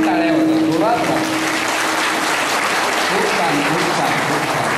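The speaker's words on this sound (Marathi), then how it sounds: "यांच्यासाठी जोरात सगळ्यांनी टाळ्या होतात" A crowd at a Mali Samaj community gathering claps loudly and continuously for nearly five seconds, a dense steady wash of applause with a brief voice or tone at the start.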